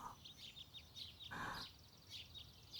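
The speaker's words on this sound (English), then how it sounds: "I woke up to the sound of birds chirping outside." Birds chirp outside on a quiet morning in the visual novel Witch on the Holy Night, a series of faint, high, repeated tweets spread across the moment with a soft background hum.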